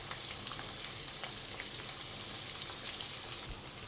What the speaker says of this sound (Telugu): హీట్ అయిన తర్వాత ఆనియన్స్ కట్ చేసి పెట్టుకున్న ఆనియన్స్ వేసుకున్నాం.